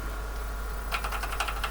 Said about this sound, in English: and press some more keys,